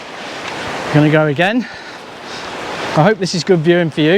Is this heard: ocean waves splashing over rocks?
yes